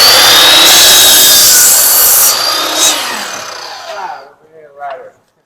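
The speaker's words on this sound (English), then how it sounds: "So right now, Sam's putting the angle cuts in his trim." A power saw rips through wooden trim making 45-degree angle cuts, a loud sustained whine and rasp for about four seconds that cuts off and winds down into quieter handling noises.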